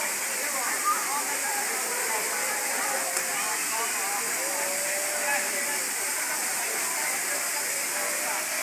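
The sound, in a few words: Balabag Falls waterfall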